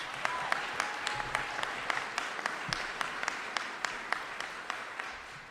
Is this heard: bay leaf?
no